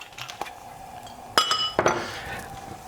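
A pan clinks and clanks against metal on a stove a few times in sharp bursts, followed by a brief faint sizzle as oil goes in for cooking fish.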